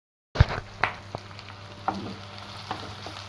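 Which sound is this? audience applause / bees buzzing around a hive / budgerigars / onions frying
onions frying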